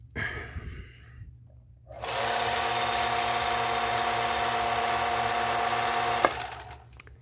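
A Singer 431G sewing machine with a low-voltage motor stitches denim in zigzag mode, a close, steady mechanical whir with a fast rhythmic clatter running for about four seconds before slowing to a stop.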